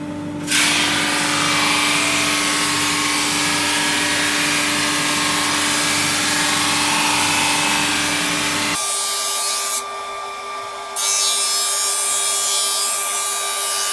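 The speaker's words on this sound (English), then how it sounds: "I'm going to thickness it with a drum sander" A drum sander thicknesses timber strips for a laminated guitar neck, giving a loud continuous motor whine with abrasive grinding that drops in pitch and changes tone partway, then surges again briefly, without talk.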